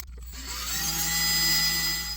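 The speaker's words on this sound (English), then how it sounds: "I'm gonna drill a small pilot hole." A drill boring a small pilot hole into a cabinet while a broken magnet latch is replaced: a brief quiet start, then a close, steady motor whine that swells and holds.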